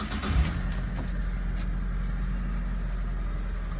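A 2014 Mitsubishi T120ss pickup engine idles smoothly and low after starting, a steady deep hum with a brief louder bump at the very start, no voices over it.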